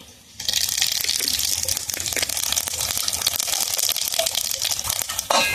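Cumin seeds hit hot oil for a fish curry made with silver carp and papaya, bursting into a loud, close, crackling sizzle that holds steady with occasional stirring scrapes.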